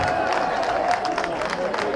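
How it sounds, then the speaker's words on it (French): Guests at a customary Gabonese wedding clap and cheer in a lively, continuous burst of applause, crowd noise and voices mixed together close by. "Applaudissez pour les Béninois"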